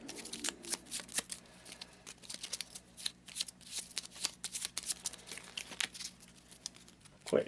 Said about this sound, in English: So we'll give them a quick shuffle.